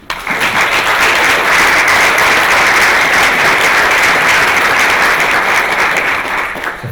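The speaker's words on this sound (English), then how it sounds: "So let's give them a round of applause." An audience at an evening event in Grimsby on drug policy breaks into loud sustained applause, a dense wash of clapping that starts abruptly and fades slightly at the end.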